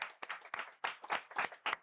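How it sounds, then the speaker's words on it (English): An audience claps for guests at a watch party: a few sharp, loose bursts of hand claps in uneven rhythm, close and fairly quiet, with no speech. "Can we clap for all the guests?"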